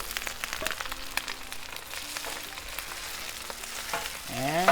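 Butter and rice frying on a flat-top griddle for plant-based egg fried rice: a soft, continuous sizzle scattered with small crackles and pops, fairly quiet, growing slightly louder near the end with no talking.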